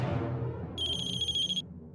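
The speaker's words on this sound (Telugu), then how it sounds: "ఈయనెందుకు నాకు ఫోన్ చేస్తున్నాడు?" An incoming phone call rings with a short, bright electronic ringtone in the middle of the moment. The ringtone sounds clear over a low background murmur and stops abruptly after less than a second.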